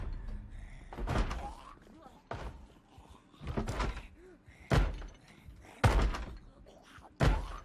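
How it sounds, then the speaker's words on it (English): Zombies bang on a wooden door in the video game Project Zomboid: six heavy, booming thuds land at uneven intervals, each ringing briefly before the next blow. "Someone trying to break down my door."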